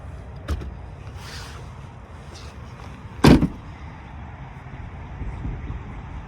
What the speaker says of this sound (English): So I'll open up the tailgate.